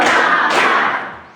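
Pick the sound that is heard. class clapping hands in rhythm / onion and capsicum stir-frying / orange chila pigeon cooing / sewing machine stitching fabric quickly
class clapping hands in rhythm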